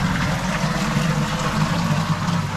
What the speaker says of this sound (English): You can hear all the water disappearing.